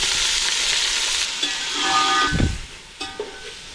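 Four onions with mustard seeds, garlic and curry leaves frying in oil, a steady close sizzle and hiss with a few stirring knocks and scrapes, no voices.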